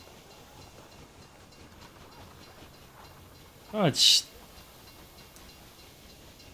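A passenger train in the railway strategy game Railroad Empire 2 rumbles faintly and steadily in the background, broken by a brief rising whistle-like sweep midway; a man briefly exclaims.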